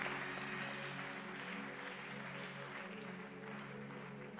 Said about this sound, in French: On peut acclamer pour la parole de Dieu.